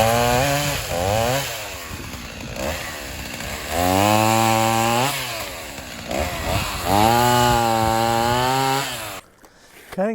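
A chainsaw cuts firewood, its engine loud and close, revving up and easing off in long swells as the chain bites into the wood, then cutting out abruptly near the end.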